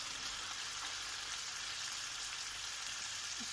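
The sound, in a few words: red wine added to sizzling stewed chicken with bacon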